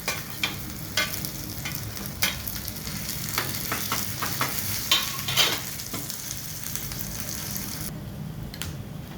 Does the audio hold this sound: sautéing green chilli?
yes